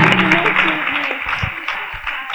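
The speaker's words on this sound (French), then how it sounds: "On va l'applaudir jusqu'à ce qu'elle s'asseye." Dense clapping from an audience at a girls' high school event in Bouaké fills the clip steadily, loud and close, with no pauses.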